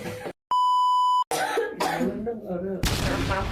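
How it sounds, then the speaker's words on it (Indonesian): A sharp cough bursts out near the mic in a radio studio after a steady electronic beep, with voices talking and chuckling around it. "Mau batuk dulu ya."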